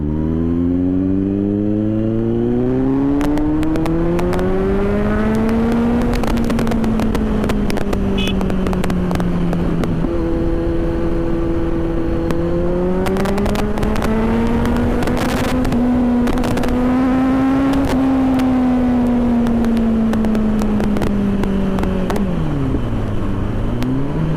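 Kawasaki Z900 motorcycle ridden at speed, its engine note climbing and falling through the gears, loud and close with wind buffeting the microphone, no talk.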